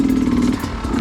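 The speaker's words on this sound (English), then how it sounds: "you need to relax and not over-control your dirt bike" A dirt bike's engine drones loud and close as it rides over rocky enduro terrain, a steady rough motor tone with a slight dip partway through.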